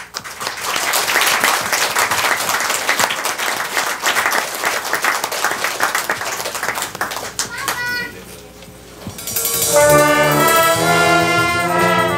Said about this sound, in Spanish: Vengan los aplausos, por favor.